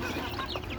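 A hen, one of a backyard flock of laying chickens with chicks, clucks and cackles briefly up close amid other fowl sounds.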